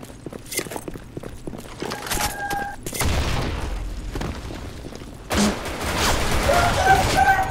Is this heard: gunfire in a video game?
yes